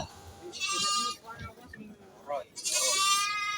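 Goat bleats at a Peranakan Etawah (PE) buck contest in an animal market in Pacitan, two drawn-out nasal cries separated by a quieter gap, with crowd and announcer talk underneath.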